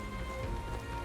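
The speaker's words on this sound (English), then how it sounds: "This bloody rain." Steady rain falls in Metaphor: ReFantazio, a soft, even hiss with no breaks for about a second.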